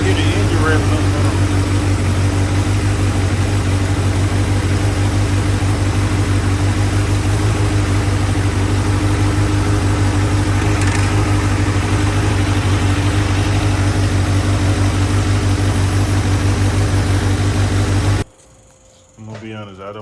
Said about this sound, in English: I hear the engine revving up now.